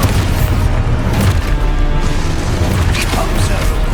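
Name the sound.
Expulso explosion spell in the video game Hogwarts Legacy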